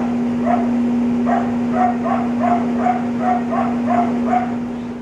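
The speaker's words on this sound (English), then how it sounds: "Please take your dog inside." The neighbors' dog barks repeatedly in short, evenly spaced yips, fairly distant, over a steady electrical hum.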